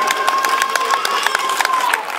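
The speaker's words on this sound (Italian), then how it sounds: "raccogliere gli applausi dei genitori" Parents applauding a children's football team at a youth tournament, an outdoor crowd clapping and cheering with a steady, moderately loud rhythm, while a voice talks over it and a whistle-like tone runs underneath.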